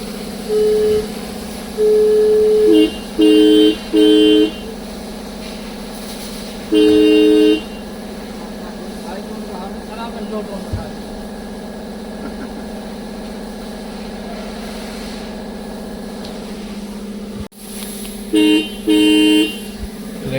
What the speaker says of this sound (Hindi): अभी हॉर्न चेक करवा रहा हूँ मैं